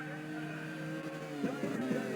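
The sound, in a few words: race cars driving past in a racing video game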